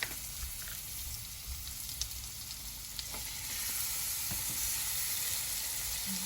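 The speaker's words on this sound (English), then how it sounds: "when you put the chops on, you want to hear that sizzle when they go on the grill" Pork chops sizzle and fry on a hot grill after soaking in a savory marinade, a steady close hissing crackle that grows louder and denser partway through, with no talking.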